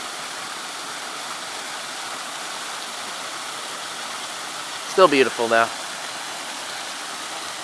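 A waterfall with its water level well down from its usual raging flow, heard as a steady broadband rush throughout, with a person speaking briefly near the end.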